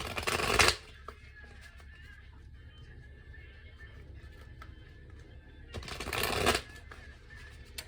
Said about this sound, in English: I'm gonna go ahead and shuffle a few more times